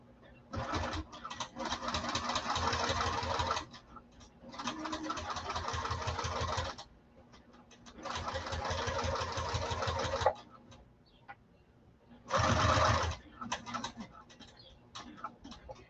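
A domestic sewing machine with a standard presser foot stitches a seam on a pocket, running in three long steady whirring bursts and one short burst, with quiet pauses between them.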